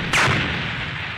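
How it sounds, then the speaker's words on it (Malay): A single gunshot fires at a submarine in the Roblox Brookhaven game, a sharp loud blast that decays into a lingering rumble with no talking. "Cepat tembak kapal selam tu."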